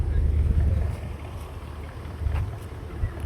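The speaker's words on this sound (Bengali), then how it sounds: "আরেকটা আইসা পড়ছে আবার, স্টিমার বা জাহাজ যাই বলেন।" A steamer passes on the Shitalakshya river near a riverside ghat, a steady low engine rumble mixed with wind and water noise, fairly close and continuous.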